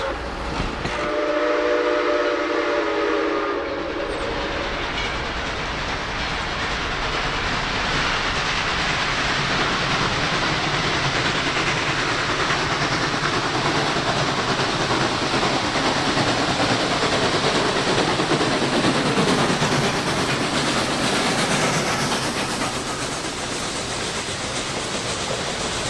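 Two steam locomotives, numbers 630 and 4501, climb a 5% grade in the Tennessee Valley, their whistle sounding at the start before a loud, continuous roar of exhaust and rolling cars that carries on steadily and alone.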